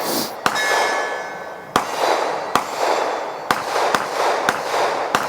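Rifle fire at a steel man-sized torso target 700 yards away, shot offhand, comes through as a series of about eight sharp, loud cracks and clangs at irregular intervals over steady outdoor noise.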